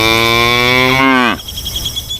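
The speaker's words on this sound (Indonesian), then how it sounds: "Widih, yang ini sapi." A cow gives one long, loud, close moo that holds steady and then drops away abruptly, leaving faint chirping crickets behind.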